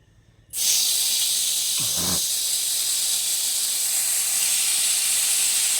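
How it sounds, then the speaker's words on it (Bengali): Potatoes frying in hot oil, a loud steady hiss that bursts in abruptly and holds at a constant level, with no talking over it. "এই যে এবার আলু ভাজা করব"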